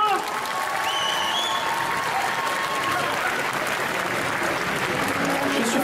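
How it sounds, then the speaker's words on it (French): Dense applause from an indoor festival crowd after a cosplay contestant at a convention's Sunday cosplay competition, sustained and loud throughout, with cheering voices and a few whistles rising above the clapping. "Je vous demande un tonnerre d'applaudissements pour Amazon encore une fois."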